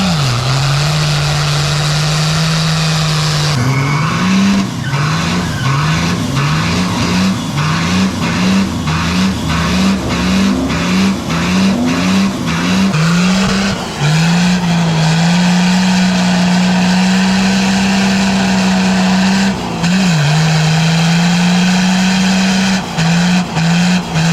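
A 1979 Ford truck with a Cummins diesel does a burnout on drag slicks: loud, close, rhythmic revving pulses climb and fall, then settle into a sustained high roar with tire squeal and brief dips.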